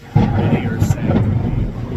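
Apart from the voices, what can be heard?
thunder in the background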